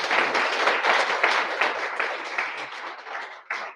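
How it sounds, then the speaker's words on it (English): A London AI meetup audience at Microsoft Reactor gives the speakers a round of applause, dense clapping that is steady and then thins out, ending in a final short burst. "I'd love to give them a round of applause."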